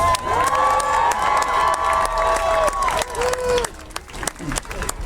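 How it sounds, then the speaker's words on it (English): A live audience cheers and applauds for a commentator named Gregory, a loud, sustained crowd roar with clapping and shouts that thins toward the end, with a voice speaking over it. "everybody give Gregory a huge round of applause"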